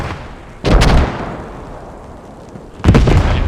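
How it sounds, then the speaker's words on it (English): Mortar fire in the WWII shooter Post Scriptum: two loud, booming blasts a couple of seconds apart, each with a long rumbling tail, no talk. "Pretty active mortars, I gotta say, as well."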